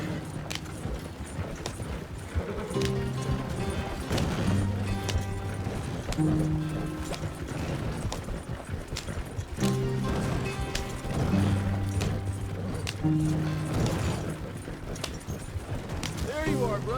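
A horse gallops in Red Dead Redemption 2 with rhythmic, rapid hoofbeats that run continuously over game music and ambience at a fairly close, steady level.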